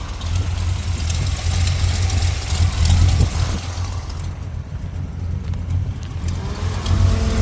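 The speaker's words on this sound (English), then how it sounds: "I hear the fans kicking on now." 1981 Corvette with an aluminum radiator idling steadily and close, a low engine rumble under a broad whooshing rush as its electric radiator fans switch on.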